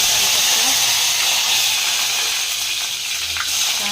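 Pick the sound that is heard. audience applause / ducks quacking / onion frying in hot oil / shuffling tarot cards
onion frying in hot oil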